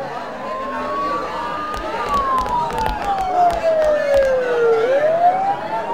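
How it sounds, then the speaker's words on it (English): A police siren wails continuously in a Persona 4 cutscene, its pitch sweeping up and down, fairly close, with a faint crowd murmur and brief thumps in the background. "Don't those sirens sound really close?"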